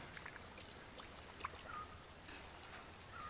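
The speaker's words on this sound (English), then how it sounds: "I just fill in water onto my fertilizer can" Water pours and trickles into a fertilizer can, a faint, steady stream with light splashes and no talk.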